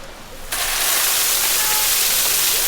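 A shower switches on abruptly at a Florida pool and keeps running as a loud, steady, hissing spray of water close by, with no voices over it.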